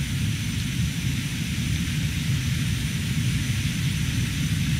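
A Fouga Magister jet roars at full throttle on its takeoff run, a dense, steady engine rumble and broadband hiss heard from inside the cockpit, continuous and loud throughout.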